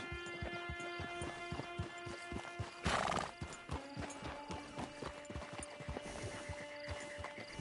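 A horse in a PS4 video game clops along with a steady, even hoof rhythm near a camp hitching post, then lets out one loud whinny partway through, with no talking.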